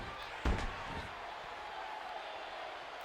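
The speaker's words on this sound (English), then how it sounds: "Cena slamming down the arm of Mark Henry" In WWE 2K14, John Cena slams Mark Henry's arm down: one sharp thud early on, followed by a low, steady crowd murmur.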